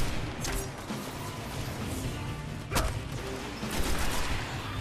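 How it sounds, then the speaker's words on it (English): In the video game Destiny, a lava grenade explodes amid gunfire during a strike mission on PS4, heard as a dense, noisy mix of shots and blasts, with sharp cracks standing out and no speech. "There's a lava grenade in there."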